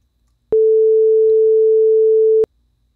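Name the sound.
two second tone from Web Audio API oscillator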